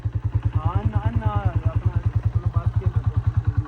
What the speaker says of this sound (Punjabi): ਮੋਟਰਸਾਈਕਲ ਲੈ ਆਵਾਂ